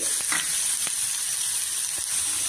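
Hot oil sizzles with a bright, constant hiss, dotted with a few tiny pops and crackles as mustard seeds and urad dal fry close up. No talking.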